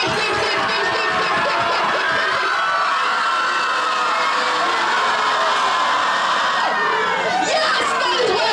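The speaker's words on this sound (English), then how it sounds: "Please, if you want to scream, then scream at any time." A loud crowd screams and shouts continuously, with shrill whoops and cheering voices blending into a dense, unbroken roar throughout.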